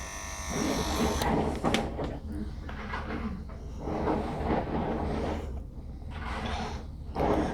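Electric clippers buzz steadily, close by, while they shave fur over the lateral saphenous vein on a dog's hind leg, with short pauses and light handling noises in between.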